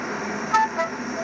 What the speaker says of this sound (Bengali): এই ট্রেনটা চলে যাচ্ছে কেন?